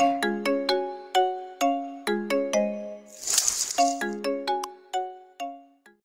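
A phone ringing with an electronic chime ringtone, a bright repeating melodic pattern of bell-like notes, with a brief rustling hiss in the middle.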